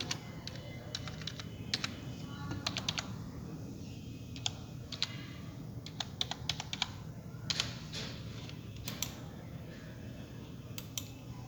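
Computer keyboard typing while an email address is corrected in Outlook 2013: bursts of quick, crisp key clicks with short pauses, close and fairly quiet over a low steady room hum, with no talking.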